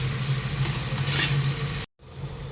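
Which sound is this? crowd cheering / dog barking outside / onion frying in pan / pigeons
onion frying in pan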